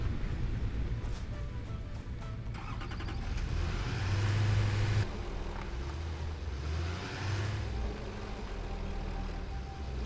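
Truck engine driving in a factory-building video game, a steady low rumble that swells around the middle and continues throughout, with mechanical clatter layered over it.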